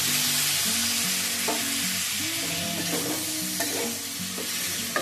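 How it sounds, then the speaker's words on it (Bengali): Ivy gourd (kundri) curry sizzles steadily in a hot pan with a little added water while a spoon stirs it, giving a loud, continuous frying hiss with scraping strokes layered on top. "ভালো করে নাড়াচাড়া করে কষিয়ে দিই।"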